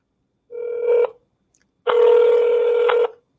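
Two clear telephone tones sound over a quiet line, a short one followed after a pause by a longer one, close and loud.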